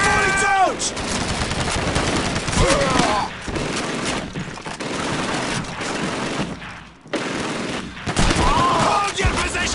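Rapid bursts of AK assault rifle fire and other guns in the WWII shooter Call of Duty 2, loud and dense with overlapping shots and sharp ricochet-like whines, mixed with shouted soldier voices from the game.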